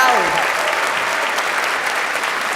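A large audience claps steadily at a law school spring commencement, the applause loud and sustained across the whole stretch, a faint voice fading at the very start.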